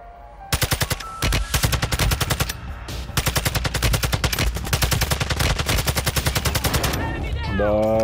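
Rapid automatic gunfire from a Call of Duty match on Ashika Island, loud and close, with sustained bursts of evenly spaced shots running for several seconds before a brief pause and a whooshing tail.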